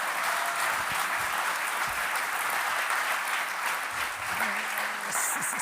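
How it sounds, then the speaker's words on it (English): Audience applause at an Afrikadag 2025 gathering, a continuous wash of many hands clapping with steady, even loudness throughout, with no single claps standing out. "Give them all a big applause for being here with us."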